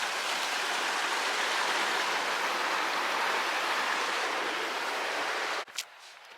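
Steady broadband rush of sea water below a Cornish coast path between Cadgwith and Lizard, like surf or waves, continuous and fairly loud for several seconds before a brief bump of wind or handling.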